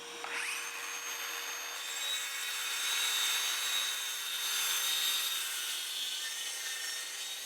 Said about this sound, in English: I can go and cut some OSB to go on the ceiling.